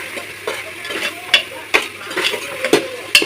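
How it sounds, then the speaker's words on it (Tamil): Stirring and sautéing with asafoetida in a frying pan while preparing beetroot rice: soft continuous sizzling up close, punctuated by a handful of sharp spoon taps and scrapes against the pan. "நல்லா கிண்டி விட்டிங்கன்னா அது நல்லா வதங்கி வந்துடும்."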